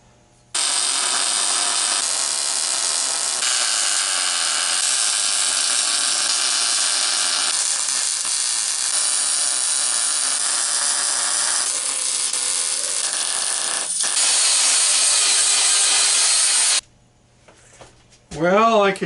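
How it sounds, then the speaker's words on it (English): Power tool cutting a groove along welds on metal, a steady high-pitched whining grind held close and loud for about sixteen seconds before cutting off abruptly, followed by brief clatter. "So I've got to cut this groove here along my welds."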